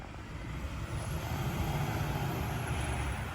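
A garbage truck working a neighborhood collection route stops to pick up cans. Its close, heavy engine rumbles steadily throughout, with a faint high hiss running above it.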